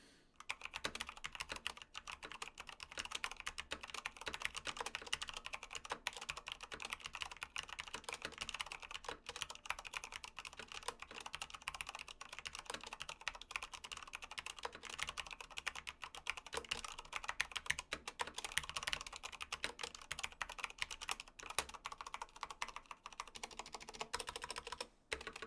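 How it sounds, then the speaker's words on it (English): Typing on a Corsair K95 RGB Platinum XT mechanical keyboard with Cherry MX Speed switches, a fast, continuous run of soft, closely spaced key clicks, fairly quiet and heard alone without speech. "I got my XT and Cherry MX Speed switches, and as always, I'm going to give you guys a quick sound test."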